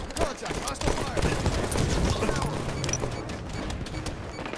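Gunfire in a Halo multiplayer capture-the-flag match, with rapid bursts of shots and impacts in a busy game mix, while a character voice and other talk run through it.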